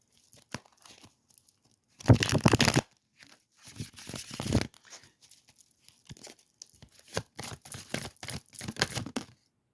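Tarot cards are pulled from a deck in irregular bursts of papery rustling and crisp slaps, some short and some drawn out, separated by quiet gaps.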